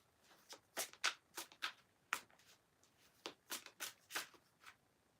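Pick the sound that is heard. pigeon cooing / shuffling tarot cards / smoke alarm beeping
shuffling tarot cards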